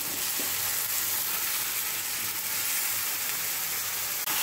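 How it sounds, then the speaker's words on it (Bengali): Steady, loud sizzling of fish frying in a hot pan with lightly fried potatoes and ground spices for a Bengali doi katla, continuous hiss with faint stirring and no talk. "এবারে আমরা মাছটা দিয়ে দেবো। মাছটা সব ঢেলে দিচ্ছি।"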